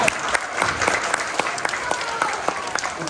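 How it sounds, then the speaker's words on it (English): Audience at a civics share fair in Flushing Town Hall breaking into applause, dense steady clapping with a few sharper claps standing out, heard close and filling the whole span. "Round of applause for that."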